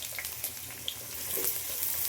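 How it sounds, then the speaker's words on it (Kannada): Finely chopped onions fry in hot oil in a pan, a steady close hiss and sizzle that grows slightly louder, with a few small pops and no talking. "ಸ್ವಲ್ಪ ಫ್ರೈ ಮಾಡ್ಕೋಬೇಕು ಈರುಳ್ಳಿನ."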